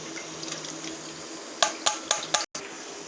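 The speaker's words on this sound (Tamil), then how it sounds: "புளிக்கரைசல் விட்டாச்சு" Tamarind extract is poured into a simmering bitter gourd tamarind curry, a liquid splashing sound over a background hiss, ending in a few short sharp splashes and a brief cut.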